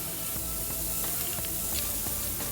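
Seasoned homemade ground beef burgers sizzle steadily on a Monument 4-burner grill, a constant bright frying hiss with faint crackles and pops throughout, close and unbroken.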